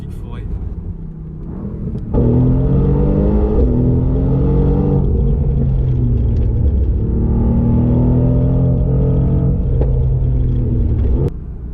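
Mercedes-AMG GT R with its 585-horsepower engine driving through a forest: a loud, close engine note that swells as the car accelerates, with rising and falling pitch and a few shifts, then settles back near the end.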